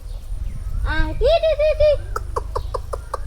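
Two broiler chickens clucking and calling in a farmyard, a run of short rising-and-falling calls followed by a quick series of clipped clucks, fairly close over a low rumble of background noise.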